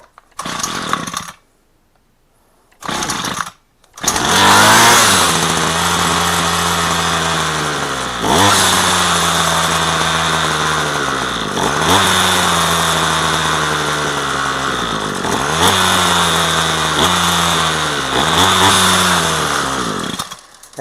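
A small engine running on half choke after a carburetor cleaning. It gives a few short bursts separated by gaps, then settles into a loud, buzzing run that rises and falls as the throttle surges.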